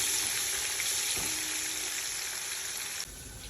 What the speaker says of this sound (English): I'm adding 3 medium size onion. Not medium, small size onion to this.